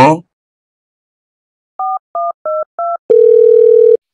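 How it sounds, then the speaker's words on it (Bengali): A telephone gives four short, evenly spaced keypad beeps, then a steady, clear tone as a call is placed. "ভোল্টার কাছে ফোন দে। ভোল্টার কাছে ফোন দিলি?"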